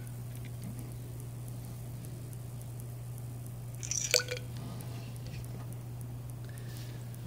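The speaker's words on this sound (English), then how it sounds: "we're going to take both objects and place them into our graduated cylinder" Solid objects are set into a water-filled graduated cylinder, giving a single small, quick plop and drip midway through. A steady low hum runs throughout.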